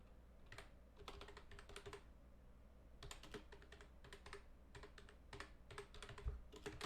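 Quiet clattering on a mechanical computer keyboard, fast bursts of keystrokes separated by short pauses, close and fairly faint against a low background hum.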